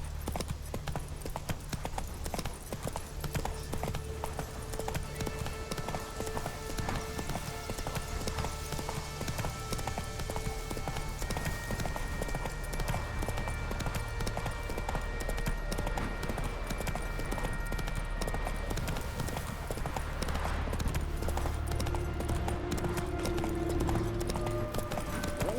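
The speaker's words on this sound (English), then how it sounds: "Whoa there, Roach." Steady horse hooves clip-clopping in The Witcher 3, a continuous even rhythm close by over a soft background of music and ambience, with no talk.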